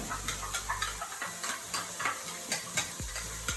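Freshly minced garlic sautés in a pot under a bright, crackling sizzle, punctuated by a run of spoon scrapes and stirring clicks at a brisk rhythm, close and fairly loud, without speech.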